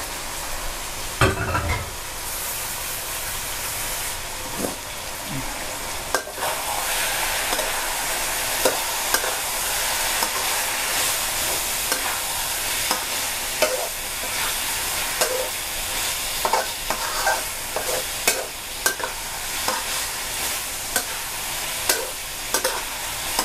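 Minced pork and shrimp stir-frying in a pan for a stir-fried stink bean dish, a constant hiss and sizzle broken by repeated scrapes and clacks of the spatula, close up with no talking.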